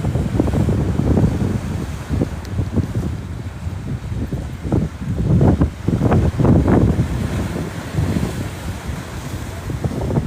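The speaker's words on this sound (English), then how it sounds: "Some nice waves coming in." Ocean waves roll in and wash up on a beach, a steady broad surf roar with repeated swells, heavily buffeted by wind noise on the microphone.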